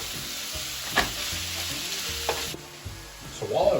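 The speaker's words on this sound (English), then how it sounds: "while our ground meat's cooking right now in the skillet" Ground meat browns in a skillet with a close, steady sizzle and hiss. A few sharp spatula clicks and stirring scrapes cut through it, and the frying swells louder at the end.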